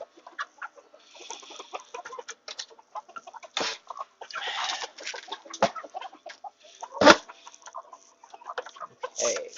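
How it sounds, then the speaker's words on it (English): Backyard homestead chickens cluck busily and close by, with scattered overlapping calls and a few sharper, louder squawks standing out over about ten seconds. "Hey, chickens."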